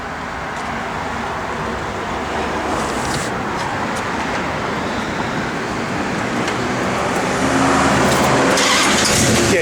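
A 1970 Plymouth Cuda muscle car engine idles with a deep, rumbling burble that swells louder toward the end, running on its own without speech.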